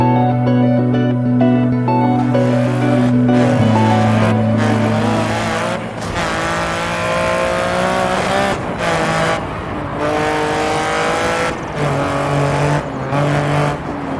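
A Lancia Stratos rally car in the DiRT Rally video game drives hard and loud, its engine droning and revving through repeated gear shifts, pitch rising and dropping, with no voices.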